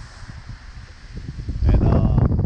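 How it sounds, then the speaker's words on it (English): High wind blows around someone panfishing for redears and bluegills, a rumbling low gusting roar that swells and grows louder toward the end, with no speech. "you can hear the wind"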